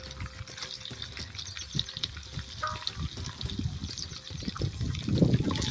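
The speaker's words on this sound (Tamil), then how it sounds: "பெரிய வெங்காயம் போட்டுக்கலாம்." Sliced big onions and curry leaves fry in oil, a low, busy crackle and sizzle with scattered stirring clatter and a wetter bubbling swell toward the end, fairly quiet and without talk.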